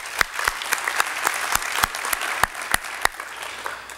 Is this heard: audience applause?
yes